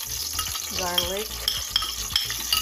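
Onion and garlic sauté in a pan while a mung bean sprout and shrimp dish is being cooked, giving a close, steady sizzle with stirring clicks and scrapes and no voices over it.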